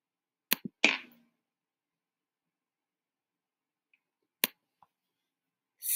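A few short, dry percussive hits from a drum sound triggered in a Scratch music project, sparse and quiet against near silence, with small ticks between them.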